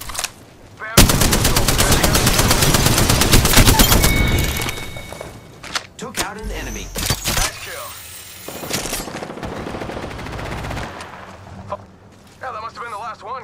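Loud, close automatic gunfire from an Apex Legends match, with long sustained bursts and shorter volleys separated by brief gaps, mixed with other game effects and some voice lines.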